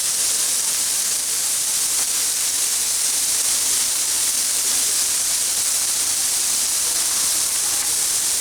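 Onion smash burgers on a griddle give off a steady, loud, broadband sizzling hiss that holds constant throughout, with no talking.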